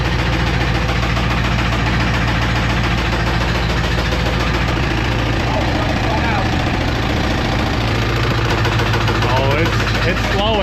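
A Chevrolet LT1 V8 from a Camaro/Corvette runs hard in a torture test, a loud, rough, knocking drone that strains and slowly loses pace. The noise stays dense and constant throughout, with voices talking over it.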